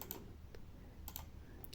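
Light typing on a computer keyboard, a few soft scattered key clicks over a quiet background hiss, faint and close, without speech.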